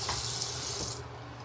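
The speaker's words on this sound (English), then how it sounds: "hot and cold running water" Water runs steadily from a bathroom faucet into a sink in a hotel room, a close, continuous splashing hiss that cuts off near the end.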